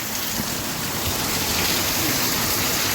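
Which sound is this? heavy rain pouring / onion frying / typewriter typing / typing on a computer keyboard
heavy rain pouring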